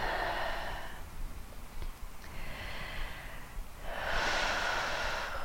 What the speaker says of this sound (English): Coming back to those big, slow, steady breaths.